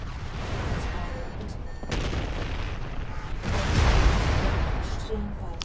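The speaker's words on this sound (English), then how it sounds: "I had an ammunition explosion because our mech got too hot." Mech ammunition exploding from overheating in MechWarrior Online, a dull booming rumble over steady game noise that swells into a heavier blast near the end.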